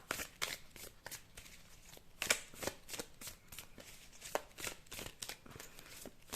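Oracle cards shuffled and handled, a near, crisp series of rapid riffling flutters and soft card slaps in irregular bursts, fairly quiet, with no talk over it.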